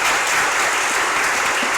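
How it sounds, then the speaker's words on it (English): Audience applause at a school gala evening, a steady dense wash of clapping from a large crowd, loud and continuous without talk. "A round of applause."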